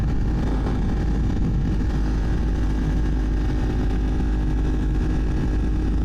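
A motorcycle exhaust with a mid-pipe resonator chamber drones steadily while riding, a loud continuous low engine rumble mixed with wind noise and no talk.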